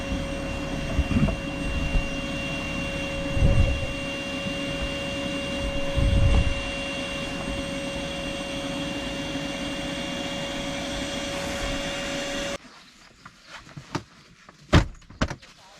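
Air hisses steadily out of a deflating air mattress during car camping in a Hyundai Palisade, a long, loud, even rush that stops abruptly near the end, followed by a few light knocks and handling sounds.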